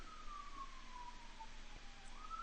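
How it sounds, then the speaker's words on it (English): Emergency vehicle sirens wail past outside, a faint wavering tone behind steady background hiss. "Sirens going by outside."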